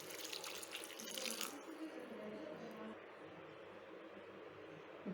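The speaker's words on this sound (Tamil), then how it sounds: "பூ முழுகிற அளவுக்கு தண்ணி சேர்த்திக்கலாம்." Water pours from a tap into a pot of cauliflower florets with potatoes, a bright splashing rush for about a second and a half that then settles into a softer trickle, close and fairly quiet.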